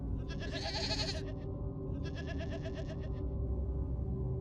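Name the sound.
goats making a commotion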